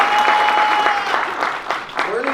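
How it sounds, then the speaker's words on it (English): Audience applause fills the room with dense, steady clapping at close range, a voice speaking over it throughout, with one sustained tone at the start. "Give her another applause."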